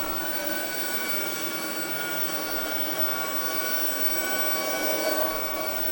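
A Shark ionFLEX cordless vacuum cleaner runs steadily and alone, a continuous close, even whirring hum with no talk over it.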